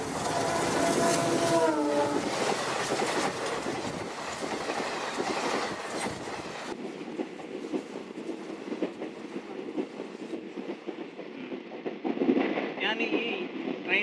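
A long-distance passenger train runs on rails, loud and close, with a rumbling roar and rhythmic clatter, then fades to a steadier, quieter rolling noise from inside the carriage while someone speaks.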